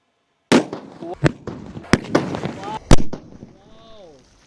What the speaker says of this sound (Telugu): ఈ సుతిల్ బాంబ్ని వాటర్లో వేస్తున్నా. చూద్దాం ఎక్స్ప్లోజన్ వచ్చేసి ఏ విధంగా వస్తుందో